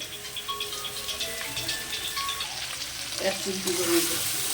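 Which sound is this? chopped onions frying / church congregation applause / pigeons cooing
chopped onions frying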